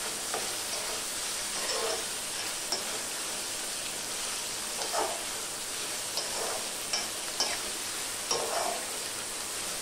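Dried shrimp (sukat) frying with onion in a pan, a continuous close sizzle with periodic scraping bursts as the mixture is stirred, several distinct stirs spaced through the stretch, no talking.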